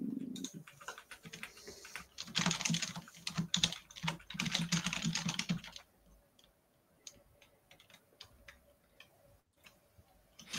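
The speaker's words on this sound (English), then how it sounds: "When I type like that, can y'all hear my keyboard?" Rapid keyboard typing, loud and dense for about six seconds, then sparser, softer keystrokes with short pauses, close to the mic.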